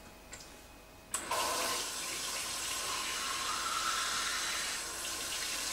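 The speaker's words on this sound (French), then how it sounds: "je vais remplir de l'eau du robinet" Tap water runs from a faucet into drinking glasses, starting with a click and then a steady, close rush of flowing water that continues throughout.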